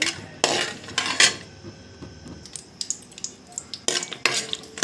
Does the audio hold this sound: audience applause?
no